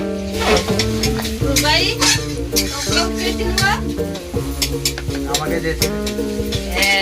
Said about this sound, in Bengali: এখানে মাংসটা রান্না করে নেওয়া হয়েছে। এভাবে রান্না হয়।